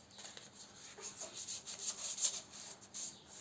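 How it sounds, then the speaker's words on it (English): Hand sanding of a 1950 Triumph Thunderbird fuel tank with 320-grit paper, a soft close scratchy rubbing in quick back-and-forth strokes, quiet and with no talk. "I've sanded one half the tank with 320."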